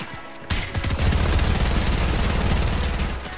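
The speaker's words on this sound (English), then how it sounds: "How do you like a little rapid fire SMG?" Rapid-fire SMG gunfire in the Fortnite video game: after a brief pause, a loud, dense and unbroken burst of automatic shots rattles on for about three seconds, with no voices over it.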